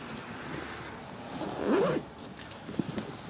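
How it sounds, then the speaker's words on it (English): The flap of a Traxxas RC backpack is zipped shut in one quick, close zipping pull, followed by a faint rustle of fabric against a quiet room hiss. "Has a flap that you zip up."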